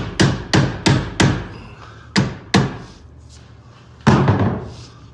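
A hammer strikes the chain pin on a Polycaster salt spreader bed chain in sharp metallic taps: a quick run of four, then two more, and one last heavier blow, each ringing briefly.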